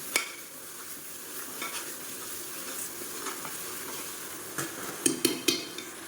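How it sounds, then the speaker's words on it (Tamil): Garlic paste sizzles and is sautéed in oil for mutton biryani, a steady close frying hiss with a spoon stirring and scraping the pan, ending in a few sharp metallic taps. "அந்த பூண்டோட பச்சை வாசனை போகிற அளவுக்கு நல்லா வதக்கிக்கலாம்"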